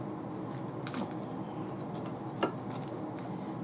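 A crunchy quesadilla is sliced while still in the pan, faint crisp crackles and two small metallic scrapes of the utensil against the pan over a steady low sizzle-like background.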